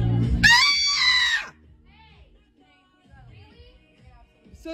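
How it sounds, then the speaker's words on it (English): A loud, high-pitched scream inside a store, lasting over a second before cutting off, followed by quiet, scattered background noise. "that doesn't mean you can just scream in our store."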